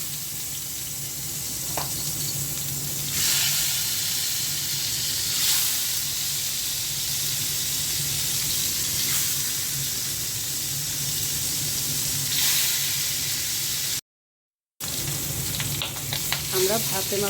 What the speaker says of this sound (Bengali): মাছগুলো ভেজে নেব। ফ্রাই প্যানে তেল দিয়ে দিয়েছি।